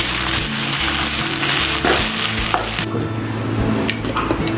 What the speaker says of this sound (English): I want the raw smell of the ginger garlic to vanish from this, so just fry this for a minute more.